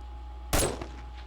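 A single sharp gunshot fired at zombies in the survival game 7 Days To Die, one loud crack with a short decaying tail over a low background hum.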